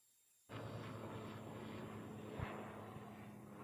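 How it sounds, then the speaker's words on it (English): Helicopters fly around near an outdoor cricket match, a steady rumbling drone that starts abruptly and holds at an even level throughout. "A lot of helicopters flying around,"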